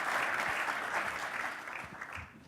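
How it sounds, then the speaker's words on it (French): An audience at a conference claps in a sustained, even burst of applause that gradually thins out and fades toward the end, with many hands heard from across the room and no talking. "on peut les applaudir"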